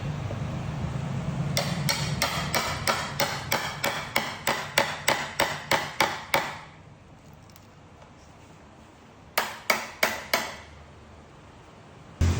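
A hammer strikes a chisel in a rapid run of sharp, evenly spaced blows while notches are cut in wood for a breakdown camper bed frame. A quiet pause follows, then a short second burst of blows, all close by with no talking.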